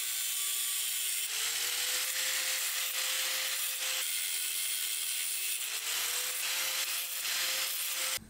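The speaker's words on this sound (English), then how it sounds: "I'm just measuring out where I want to cut the studs right now because they are way too long." Turbo manifold studs on a BMW M50 engine being cut produce a continuous harsh, rasping grind with a faint shifting whine, in repeated strokes that break off briefly between passes, loud and close with no talking.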